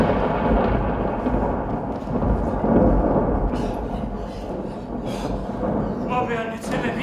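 A thunderstorm with steady rain and deep rolling thunder fills the scene throughout, loud and continuous, with a few sharper crackles toward the end.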